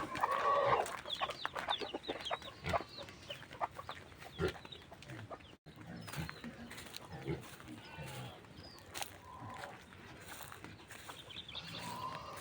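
Farmyard chickens cluck and chatter continuously outdoors where corn is being sun-dried as feed, several birds close by with overlapping calls and sharper squawks throughout.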